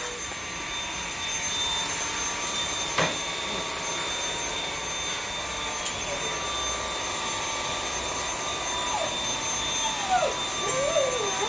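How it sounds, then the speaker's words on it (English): A steady, loud whirring drone runs throughout like a vacuum cleaner motor, with a few brief clicks and short bursts of background voices near the end. "it's just a vacuum"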